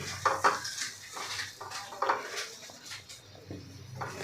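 A lid set onto a pan of mutter paneer with a couple of light metallic clinks and taps, quiet utensil handling in between, no voices.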